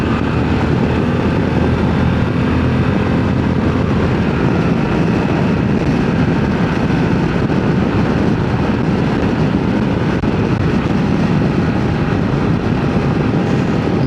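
A 2025 Harley-Davidson CVO Pan America motorcycle engine runs at high revs on a twisty road, a loud, continuous roar mixed with wind rush throughout, with no talking.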